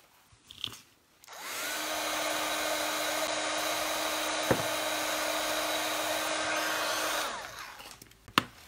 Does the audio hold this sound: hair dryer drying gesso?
yes